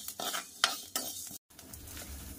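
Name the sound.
stirring fenugreek seeds and onion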